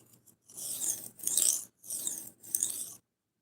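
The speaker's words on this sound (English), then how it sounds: "I'm sharpening a butter knife on a brick." A stainless butter knife is drawn across a brick in four steady strokes, each a gritty, raspy scrape close by, separated by short pauses.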